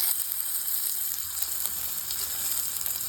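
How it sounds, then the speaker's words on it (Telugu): Mustard seeds, cumin, dried red chillies, garlic and curry leaves tempering in hot oil with a steady, loud, close sizzle that runs without a break, with no talking. "ఎండుమిరకాయలు, ఎల్లుల్లిపాయలు అన్నీ వేసి తాలింపు పెట్టేసుకున్నాను"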